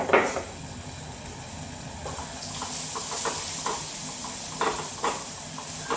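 Steady sizzling hiss of spices frying in hot oil as tempering for rasam, close and continuous, with a few soft clinks and pops scattered through.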